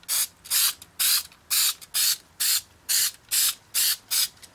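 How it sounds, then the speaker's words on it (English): Spray adhesive from an aerosol can is sprayed onto a sheet of glass in about nine short, evenly spaced hissing bursts, close and fairly quiet, with no talking. "we're going to spray this glass with the adhesive."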